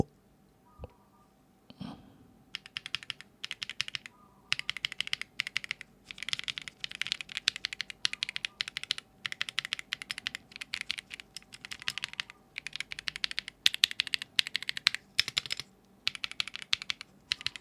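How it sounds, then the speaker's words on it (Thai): Close-up clicking of a mechanical keyboard with Echo Yellow switches, typed in quick bursts with short pauses, after a couple of faint knocks at the start. "พี่อยากให้ทุกคนได้ยินเสียงมาก ฟังเสียงนะ เสียงสวิตของเยลโล่"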